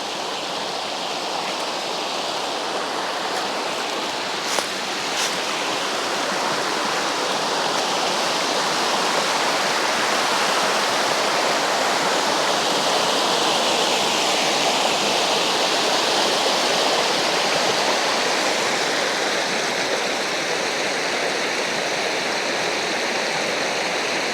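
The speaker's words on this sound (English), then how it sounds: "This is the smaller of the 2 waterfalls here." Steady rushing of the smaller of two waterfalls, a continuous broadband splash that holds an even level throughout with no voices.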